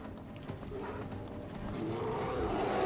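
Horse hooves clop in a steady rhythm while riding in Skyrim, mid-distance and moderately loud, with a game soundscape building beneath them.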